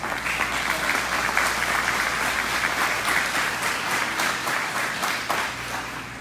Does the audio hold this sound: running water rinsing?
no